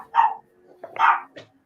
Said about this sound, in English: your dog really does hate lightsabers.